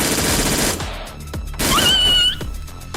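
Rapid automatic gunfire from a weapon in the mobile shooter Metro Royale, fired at close range in a training ground: loud bursts of fast shots with sharp cracks, brief pauses, and a glassy ringing tail.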